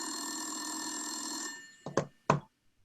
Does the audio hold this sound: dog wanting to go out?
no